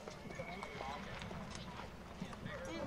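Horses at a junior rodeo, with hooves clip-clopping and thudding amid a busy arena murmur, moderately close, while people talk in the background.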